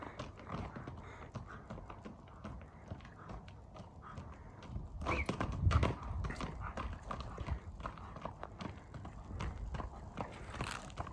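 A tall horse being walked at a livestock market, with faint, steady hoof clops and scuffs at moderate distance, a louder cluster of hoof strikes midway, and low background noise throughout.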